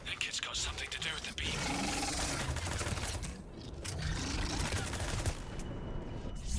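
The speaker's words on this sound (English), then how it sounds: "Can we stop shooting me from every direction with Omega machine guns that like one-shot me, please?" Machine gun fire from Omega mercenaries in Mass Effect Legendary Edition rattles in dense, continuous bursts, mixed with grunts, scrapes and other battle noise at a moderate distance.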